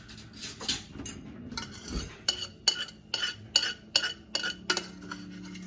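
A spoon scrapes milk curds off the bottom of a pan while making ghee: a series of sharp, close metallic scrapes and clinks in an uneven rhythm, roughly eight strokes, with faint sizzling between them.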